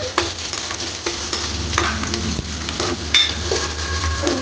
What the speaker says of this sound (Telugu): నూనె పోసుకొని ఉల్లిగడ్డలు వేసుకోవాలి.